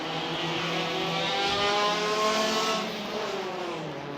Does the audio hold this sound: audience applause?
no